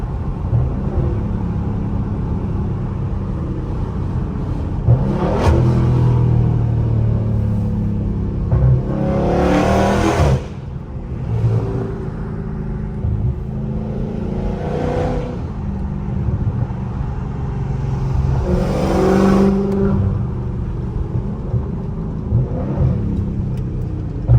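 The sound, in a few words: car engine revving through downshifts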